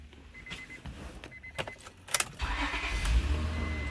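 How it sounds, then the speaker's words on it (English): A car is started up close by, with keys jangling and clicks first and then the engine catching and settling into a steady low idle. "I'm going to start the car up."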